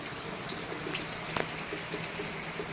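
Steady heavy monsoon rain hisses evenly throughout in Jalna district, Maharashtra, with occasional louder drips and patters landing nearby; no voices.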